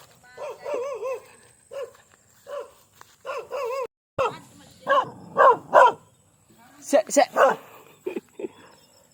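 A dog barks in several short bursts, close by, mixed with people talking nearby.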